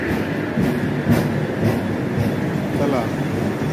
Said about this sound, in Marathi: क्या बात आहे, एसी ट्रेन बघायला भेटली।